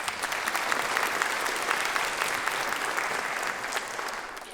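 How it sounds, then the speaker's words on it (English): A brief, brisk round of clapping from an audience at a public evening program about the Declaration of Independence, even and fairly close, with no talking. "let's give our members a quick round of applause"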